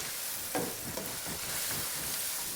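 A spoon stirs chicken curry with Indian curry powder and ginger in a hot pan, a continuous sizzle and fry with soft scraping strokes close up, no voices.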